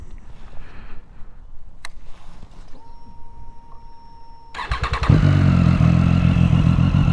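A Triumph Street Triple 675 motorcycle with a hot start fault is cranked after a quiet stretch with a faint beep, then fires and settles into a loud, close, steady idle.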